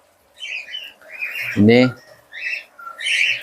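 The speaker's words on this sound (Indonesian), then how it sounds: "isinya ya kandang murai batu kanan kiri, yang di tengah ini parkit Australia" Caged oriental magpie-robins and Australian parakeets give short chirps and squawky calls, close by, scattered across the moment, with a brief spoken word in between.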